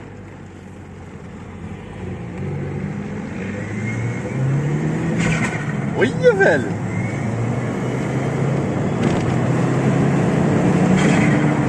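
Audi A3 turbo with 180 hp accelerating on the road, a droning engine rising steadily in pitch and loudness heard from inside or nearby, with a brief sharp burst midway and someone speaking over it.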